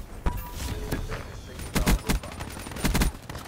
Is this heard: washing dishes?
no